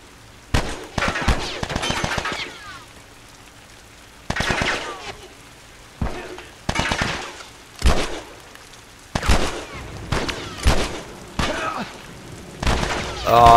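Repeated bursts of video-game gunfire from The Last of Us, with loud, sharp volleys separated by short quiet gaps throughout.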